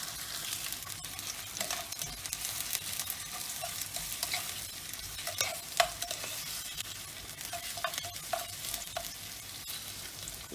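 Vegetables sweat in a pan over very low heat for a chicken and lemon tajine, giving a soft, continuous sizzle broken by light stirring scrapes, faint and close, with no voices.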